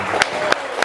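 An audience claps in a school training session, heard as three sharp, evenly spaced claps with faint background murmur.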